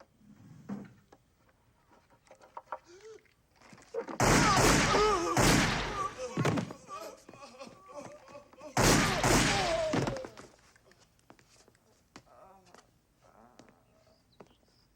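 Gunfire in a commando action movie erupts in two loud, rapid volleys of shots separated by a lull, with quieter voices and movement sounds before and after.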